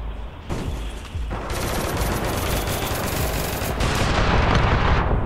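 Rapid, dense bursts of gunfire in APB Reloaded, a continuous loud barrage like automatic weapons that intensifies toward the end, with no talking.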